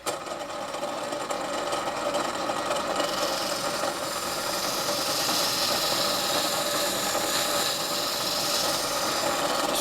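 A wooden noodle board being sanded down smooth, a continuous dense buzzing rasp from a power sander running steadily for about ten seconds, close with no talking.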